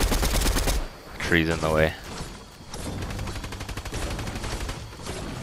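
Rapid automatic gunfire in an online battle royale shooter game, loud bursts of fast repeated shots starting and stopping, with a player talking over part of it.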